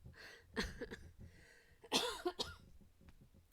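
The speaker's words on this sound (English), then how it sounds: "sorry that I coughed" Two or three harsh coughs from a person in a quiet indoor room, with a burst near the start and a louder cluster around the middle, close and otherwise silent.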